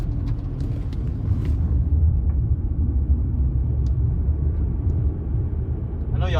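A Dodge Challenger being driven, its engine and road noise forming a loud, continuous low rumble that stays steady from start to finish.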